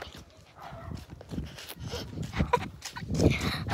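A dog barks and whimpers in short, close bursts over a few seconds, with voices talking alongside.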